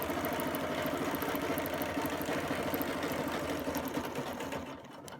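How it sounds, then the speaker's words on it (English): Sewing machine stitching an all-over Baptist fan quilt design, a steady rapid mechanical chatter running loud and continuous before easing off at the very end. "So I'm going to stitch"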